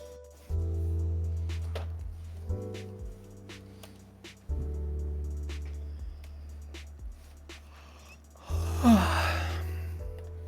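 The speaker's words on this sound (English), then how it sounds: "Cute yawn detected." A soft, breathy yawn swells near the end, rising briefly above steady, sustained electronic music tones that fill the rest of the stretch.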